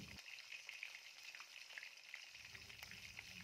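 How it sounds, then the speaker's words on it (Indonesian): Chicken pieces coated in galangal spice mix deep-fry submerged in plenty of hot oil, giving a dense, steady crackling sizzle, close and even throughout with no voices. "Goreng dengan menggunakan minyak yang banyak agar ayamnya terendam ya, sampai kecoklatan seperti ini"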